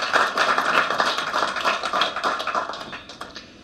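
Audience applause at a public talk, a dense burst of many hands clapping close and loud, fading gradually toward the end.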